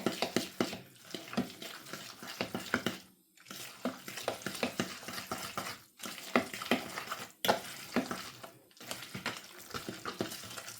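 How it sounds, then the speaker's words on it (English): Bacon and egg mayo mixture being stirred in a bowl, giving steady scraping and clinking of a utensil against the bowl with brief pauses between strokes, close and fairly loud, with no talking. "Stir that all together."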